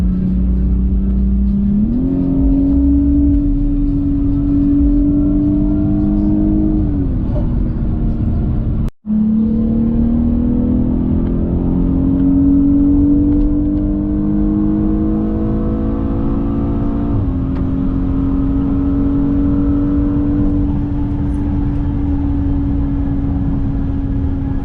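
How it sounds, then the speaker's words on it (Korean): A BMW 840i Gran Coupe in sport mode accelerates with a steady, rising engine and exhaust drone, close and loud, with a brief dropout midway and the pitch climbing again afterward. "시리즈의 매력 포인트는 역시 가속할 때의 배기음입니다."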